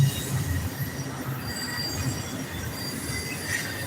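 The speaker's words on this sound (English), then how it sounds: "This is a pretty long train right here." A long freight train rolls past nearby, steel wheels squealing in thin, drawn-out shrieks over a continuous rumbling roar of rail cars.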